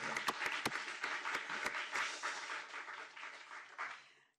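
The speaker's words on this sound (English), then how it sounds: "I'd like to give him a round of applause" A round of applause fills a wine committee hearing room, dense hand claps with a few sharp nearby claps, faint and sustained before tapering off.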